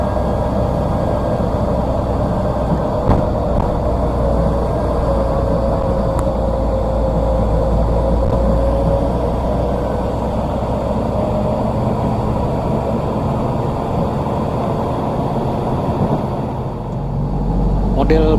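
An intercity bus rolls along a village settlement road, a continuous loud low engine rumble with road noise, steady throughout and easing slightly near the end, while a voice talks over it.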